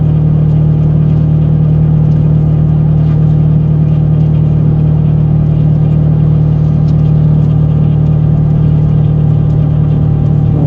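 A TVS Ronin base-model motorcycle, Lightning Black, speeds up toward about 70 on the road, its steady engine drone and heavy wind rumble filling the whole stretch at constant high loudness with no talk.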